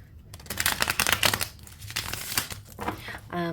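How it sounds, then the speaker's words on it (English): Tarot cards riffle and slap together in quick, papery bursts as the deck is shuffled close by, with a short spoken sound at the end. "let me give it a good shuffle, and we'll get 3 cards for the collective"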